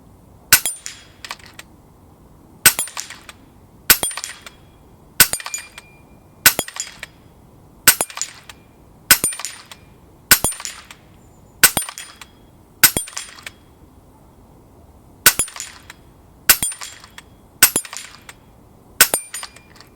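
An FX Impact M4 .25 calibre air rifle fires about fifteen sharp cracking shots in quick succession, each followed by a short metallic cocking clack. The shots come at a steady, rapid rhythm over a quiet background with no speech.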